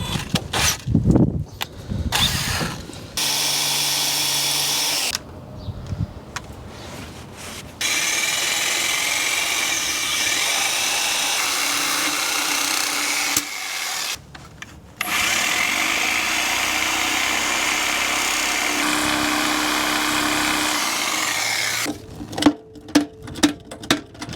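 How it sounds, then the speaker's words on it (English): A power drill whines in several long, steady bursts separated by short pauses, close by and fairly loud, with brief clicks and rattles between runs. "I'm going to drill some holes in these and drain the oil out"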